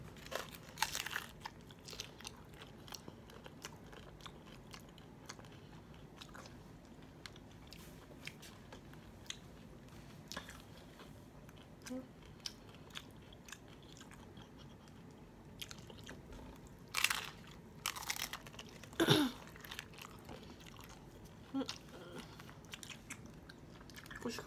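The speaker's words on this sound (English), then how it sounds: "Let me try this Doritos Los Taco basically first." Someone bites into and chews a Doritos Locos taco close to the mic, with quiet crunches and wet chewing through a long stretch and a few sharper crunchy bites near the end, without speech.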